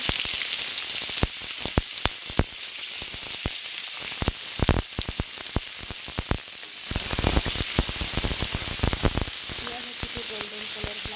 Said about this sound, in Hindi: गोल्डन कलर होला पर्यंत भाजिबा। देखंतु अपन माने पियाज भाजी हो गलानी।